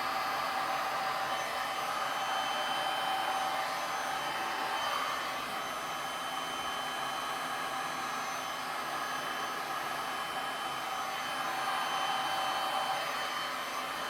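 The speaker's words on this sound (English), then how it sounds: "This heat gun is really good." A heat gun blows hot air over a resin pour on a 20x20 inch canvas, giving a steady, even whooshing hiss that holds at one level for the whole stretch.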